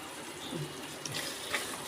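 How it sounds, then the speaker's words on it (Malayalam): Soaked kudampuli (Malabar tamarind) water added to a fish curry in a pot, a soft continuous pour with faint splashes, close by and low in level. "നമ്മുടെ കുടംപുളി വെള്ളത്തിലിട്ട് വെച്ചേക്കുന്നില്ലേ, അത് ആഡ് ചെയ്ത് കൊടുക്കാം"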